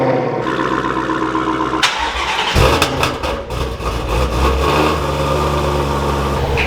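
A Dodge Hellcat's engine runs close by with a steady, loud rumble for the whole stretch, with a sharper surge of revving partway through.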